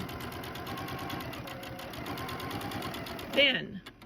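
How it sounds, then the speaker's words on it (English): A sewing machine stitching fabric along a marked diagonal line, a steady fast mechanical chatter running for several seconds before stopping with a brief clack. "I will sew on the line, matching this one going right up the red line as a diagonal"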